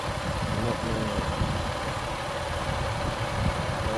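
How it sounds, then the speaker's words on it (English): A car engine idles steadily after a mechanic starts a car that would not turn over; the engine has a small valve cover leak. The running drone is close and even, with no talking over it. "no wonder the engine sounds so well"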